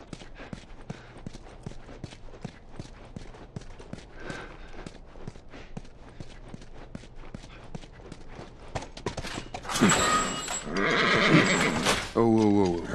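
In the video game The Last of Us, a horse's hooves clip-clop steadily as it walks, and a loud, shrill whinny breaks in near the end. Background game sounds run underneath.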